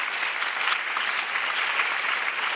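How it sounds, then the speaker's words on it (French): Audience applause at a public debate forum in La Rochelle, a steady, dense wash of clapping from a large crowd, even in level throughout. "on peut les applaudir"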